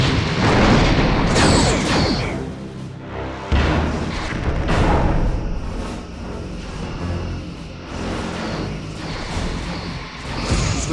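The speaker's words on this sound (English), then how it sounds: "Lining up rear torpedo tubes." Torpedo launches and explosions in the space combat game Star Trek Bridge Commander, with loud booming blasts, whooshes and crashing impacts rolling one after another.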